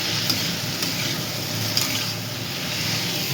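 Papaya and potato chunks are sautéed in white oil in a pan for a curry, with a continuous close sizzle and light scraping from stirring.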